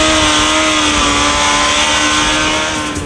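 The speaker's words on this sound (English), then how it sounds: "Suzuki racer Rad Greaves shows us how he rides the Hayabusa." A Suzuki Hayabusa motorcycle ridden hard around the Willow Springs Racetrack in Southern California, its engine holding a loud, sustained high-pitched whine, fading slightly at the close.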